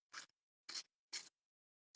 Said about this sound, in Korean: 이렇게 가위 집어보세요.